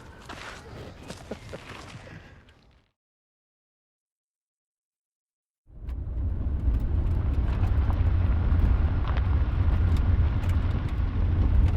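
Car engine in a film scene, a muffled mid-level drive at first, then a pause of silence before a louder, steady road rumble takes over.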